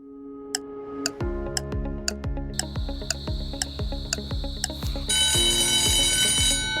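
A quiz countdown timer ticks at a steady, regular pace, close and clear, then a shrill electronic alarm cuts in at the end to signal that time is up. No voices are heard.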